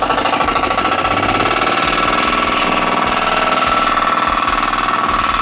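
A Firman FTL610W cultivator engine runs in first gear while tilling soil, making a loud, close, steady chugging drone with a rapid, regular knocking pulse throughout.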